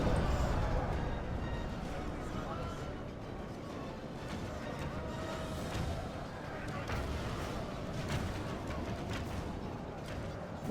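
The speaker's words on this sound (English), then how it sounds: "That sounds like a runic cannon." Distant runic cannon fire in Third Age Total War Reforged, repeated booming shots under a dense rumbling battle din, with a voice talking over it.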